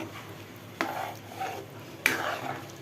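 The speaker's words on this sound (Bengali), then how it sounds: "আমি এখন ঝোল দিয়ে দিব" Broth is added to a meat and potato curry and stirred in a pot, giving quiet scraping and stirring with two sharper utensil knocks against the pan, low and close.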